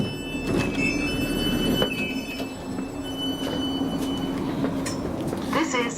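A South Western Railway Class 458 electric train idles at Sunningdale station, with a steady hum, a high whine, and occasional clunks and clicks, while a voice talks over the noise.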